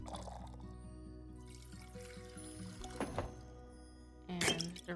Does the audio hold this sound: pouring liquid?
yes